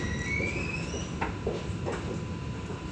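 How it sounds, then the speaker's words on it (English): A Sydney light rail tram nears Haymarket stop, heard from inside as a steady rolling rumble with a few soft clicks and a faint high whine, no talking. "Tram's now approaching uh, Haymarket"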